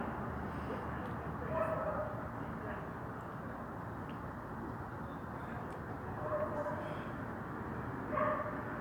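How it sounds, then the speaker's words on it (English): Dogs bark in short yips and bow-wows, a few bursts spread across the stretch. They sound fairly distant and faint over a steady background murmur, with people talking nearby. "Now we hear a dog barking."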